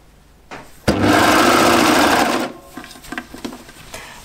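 A sewing machine stitches knit fabric for a jumpsuit in one fast, continuous burst of rapid mechanical whirring lasting over a second, followed by softer handling clicks and rustles.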